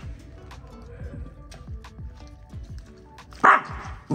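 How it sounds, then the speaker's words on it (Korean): A pet dog barking and yipping in a home at night, a run of short, fairly quiet yelps repeating in a loose rhythm, ending with one louder bark. "강아지입니다"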